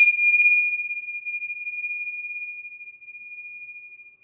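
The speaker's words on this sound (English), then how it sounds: "we are going to begin class with our bells" A single bell or chime struck in a children's yoga class, ringing out with a bright, clear tone that sustains and slowly fades over several seconds, alone with no talking.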